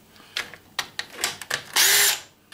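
Power drill unscrewing screws from a stereo receiver being scrapped, several short whirring bursts in quick succession followed by a longer, louder high-pitched spin near the end.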